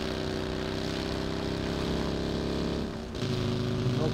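Airplane drone in the PUBG video game, a steady mid-loud engine hum that shifts slightly near the end, with no speech.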